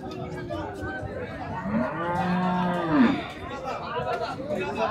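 A cow lets out a long, low moo over a busy background of crowd chatter and voices in an open cattle market in Tepakhola, Faridpur.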